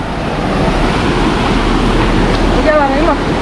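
Strong, steady rush of clean flowing water just above outdoor swimming pools at a free holiday spot, a broad continuous roar close by with brief speech near the end.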